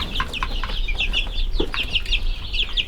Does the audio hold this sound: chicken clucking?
yes